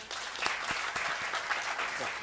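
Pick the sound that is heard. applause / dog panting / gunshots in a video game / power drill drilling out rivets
applause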